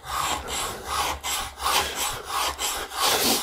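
A steel chisel is sharpened freehand on a sharpening stone in rhythmic back-and-forth scraping strokes, about seven or eight passes at an even pace, close and fairly loud.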